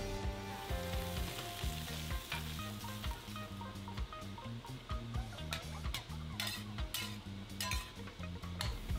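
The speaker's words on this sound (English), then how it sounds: "Stir fry, and then add the cooking wine." Garlic bok choy stir-frying with cooking wine in a wok. A loud continuous sizzle is broken by repeated rhythmic scraping and tossing strokes of the spatula, with occasional metallic clinks.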